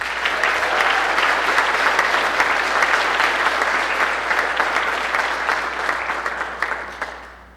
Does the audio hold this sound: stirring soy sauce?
no